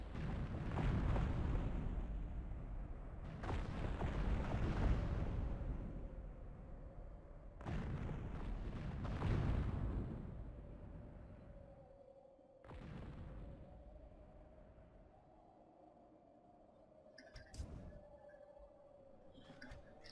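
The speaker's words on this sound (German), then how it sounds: "meine Kanonentürme ballern noch ein bisschen rein" Cannon towers fire in the Medieval II Total War video game, with about six heavy booming blasts over twenty seconds and a steady tonal hum droning between the shots.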